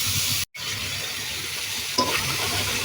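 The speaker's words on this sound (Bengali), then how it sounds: "সমস্ত উপকরণ আমি এখন কষিয়ে নিব।" Spice masala for an aubergine, potato and fish curry being sautéed in a pan, a continuous close sizzle with stirring scrapes, a brief dropout, then a louder burst of frying.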